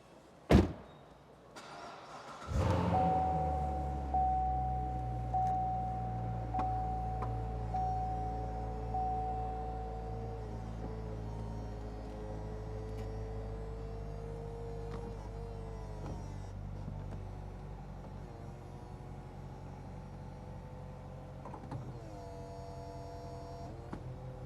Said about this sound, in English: let's put the convertible top up so we can see it